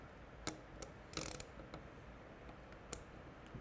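Ratchet tightening a tail light bolt on a Triumph Speedmaster, soft close mechanical clicks scattered through a few seconds with one short burst of rapid ratcheting, quiet and alone.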